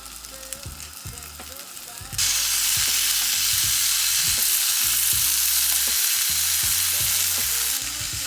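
Leftover food fries in a pan: quiet clinks and scrapes at first, then a loud, steady sizzle erupts and holds close to the end, with utensil stirring throughout.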